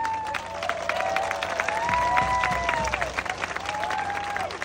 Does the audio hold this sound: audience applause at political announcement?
yes